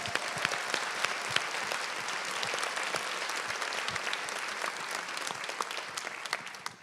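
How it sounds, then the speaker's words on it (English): A crowd at an annual dinner claps for a woman on stage, a dense sustained round of applause that holds steady for several seconds and tapers off at the end, with faint voices mixed in. "should we give this lady a big round of applause?"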